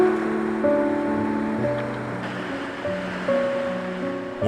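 High ocean waves surge and crash against a rocky island shore off southwestern Korea, a dense, continuous roar of surf heard close by with no talking.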